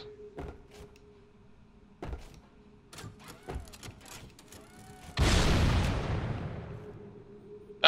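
Gunfire in the Halo Master Chief Collection campaign, a handful of sharp separate shots in the first half followed by a big roaring blast that fades away slowly.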